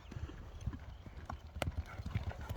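Hooves of a racing horse at a Kyrgyz horse event clip-clop in a quick galloping rhythm, with occasional thuds and brief outdoor noise around the animal.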